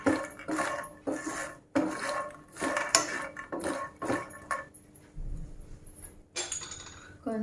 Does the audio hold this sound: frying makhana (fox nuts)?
yes